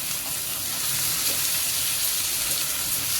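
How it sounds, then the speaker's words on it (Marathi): Tomato and capsicum sautéing in hot oil over already-fried onion, a steady close sizzle and hiss running evenly throughout with no talk. "त्यामध्ये टमाटर, शिमला मिरची दोन्ही आपण परतून घेणार आहे"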